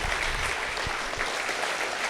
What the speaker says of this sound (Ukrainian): Можемо під ваші оплески запросити його сюди.